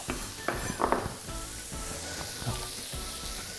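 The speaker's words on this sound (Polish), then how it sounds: "grzyby czuć, że zaczynają się smażyć" Steady sizzling and crackling of mushrooms frying in a pan, with a few clinks of utensils early on.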